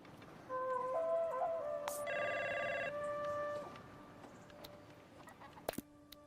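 A telephone rings as a sound effect, a bright electronic ring repeating for a couple of seconds at moderate level, followed by a few faint clicks.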